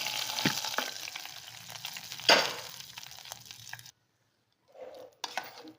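Tempering is fried and stirred into pongal, a close crackling sizzle with spoon scrapes and a sharp clatter partway through, then a sudden silence followed by a few short kitchen sounds.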